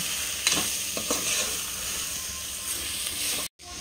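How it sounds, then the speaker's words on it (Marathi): Prawns and masala mixture sauté in a pan for a rice dish, a steady sizzle with a few stirring scrapes, close and continuous, with a brief dropout near the end. "कोळंबी घातल्यावरती हे सगळं मिश्रण एक 5 मिनिटं छान परतवून घ्यायचे"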